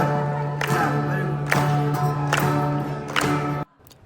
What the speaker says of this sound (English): Can I have some claps?